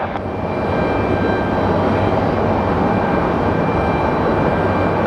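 An airliner on approach to land at Phoenix Sky Harbor airport, heard as a steady, fairly loud jet engine roar that holds throughout with no pauses.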